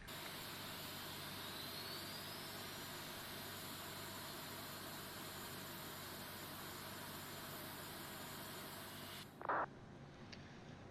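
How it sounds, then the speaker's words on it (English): Steady jet engine whine from an Aerosoft A330 in a flight simulator game, a continuous even drone that cuts off abruptly near the end, followed by a brief click. "we can fire up the engine, so engines start to ignition, and then starting number 2"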